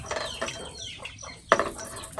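A chicken that has just been caught clucks in short, uneven calls at close range, with one sharper squawk partway through.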